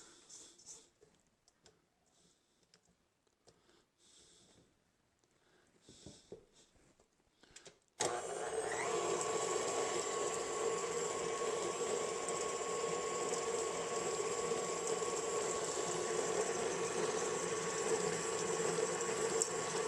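Faint scraping and tapping around a bowl give way to an electric mixer beating butter and sugar, its motor whirring in a steady, even drone that continues to the end with no talking.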